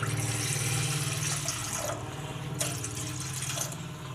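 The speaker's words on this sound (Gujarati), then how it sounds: "આપણે આ તપેલી રાખશું એમાં આપણે પાણી નાખશું" Water pours steadily into a cooking pot on the stove while kheer is being prepared, a close, continuous splashing and gurgling that shifts tone partway through, with no talking.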